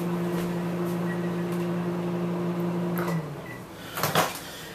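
A microwave oven hums steadily, then stops; afterwards the door clicks open and there is a short clatter nearby.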